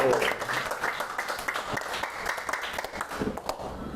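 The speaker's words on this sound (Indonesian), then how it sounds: "Tepuk tangan untuk kelompok 1." Students in a classroom applaud group 1 in a steady patter of many hands. A voice and room noise mix in under the clapping, which fades slightly toward the end.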